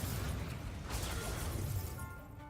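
Incendio fire spell cast in Hogwarts Legacy, a dense roaring burst of flame with crackling noise that holds steady for a couple of seconds before thinning out, with no talk over it.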